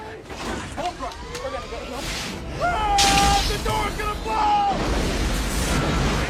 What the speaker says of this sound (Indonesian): pintu yang terkunci itu meledak